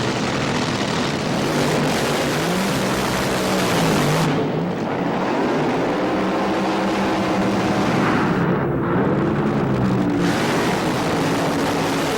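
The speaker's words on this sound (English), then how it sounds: "a dangerous time to run a fuel car" Nitro-burning fuel drag racing car at a 1987 Bakersfield night qualifying session, its engine a loud, continuous roar that rises and falls in pitch, heard up close.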